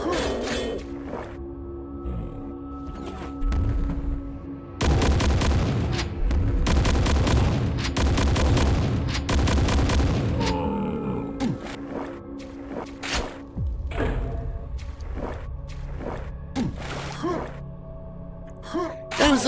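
Repeated heavy gunfire bursts from multi-barreled shotguns in the video game DWELL, loud and dense with booming blasts, mixed with other game effects across the whole stretch.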